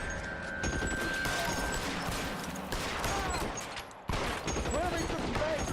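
Gunfire in the video game L.A. Noire, with rapid shots and crashes over a busy, continuous battle bed and voices speaking over it.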